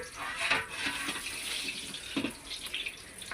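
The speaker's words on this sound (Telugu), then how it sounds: "ఎప్పటికప్పుడు చేయి కడుక్కోవాలండి" Hands are washed under running tap water in a home kitchen, giving a close, splashing stream with uneven gushes as the hands move through it, and no voices.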